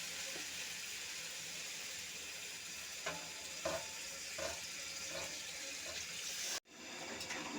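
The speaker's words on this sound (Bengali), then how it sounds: "এখন জল দিয়ে দেব।" Water pours into a hot pan of vegetable curry with potato and eggplant, making a steady close hissing sizzle with a few soft knocks. The sound cuts off abruptly near the end and then resumes.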